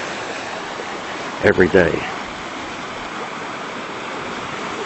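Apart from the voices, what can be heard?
little waterfalls, stream running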